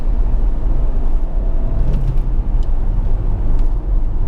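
Engine of a Peugeot 308 with a manual gearbox during a downshift, a rough, rumbling drone heard from the cabin along with road noise, steady and fairly loud.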